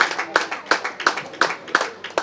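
An audience claps at a book presentation in a bookstore, with steady, evenly spaced claps at roughly three per second. The claps are fairly close and clear, with no talk over them.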